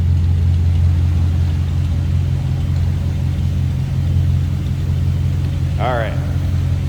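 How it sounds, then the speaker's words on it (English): A 1947 Ford Super Deluxe coupe's flathead V8 idles with a steady low rumble throughout, joined near the end by a brief rising chirp from something else. "Now you can hear that flatty."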